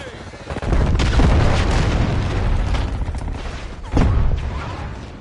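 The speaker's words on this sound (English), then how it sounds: "Get down. Frag." A frag grenade goes off in Call of Duty Warzone, a loud, dense booming blast with rumbling debris, then a second heavy burst near the end amid battlefield noise.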